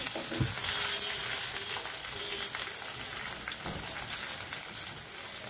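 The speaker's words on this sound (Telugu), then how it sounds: "ఉద్దిపప్పు రంగు మారేంత వరకు ఫ్రై చేసుకోవాలి" Urad dal frying in a pan with oil for chutney, a continuous close crackling sizzle with soft stirring scrapes, steady and unaccompanied by talk.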